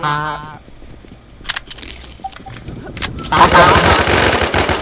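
Rapid bursts of automatic gunfire in a shooting video game, with sharp shots rising to a loud, dense barrage near the end while players talk over the action.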